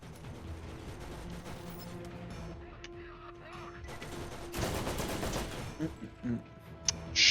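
In the video game Borderlands, a turret fires a loud, rapid burst in the middle of the moment, then a few more scattered shots and mechanical clanks follow over faint game ambience.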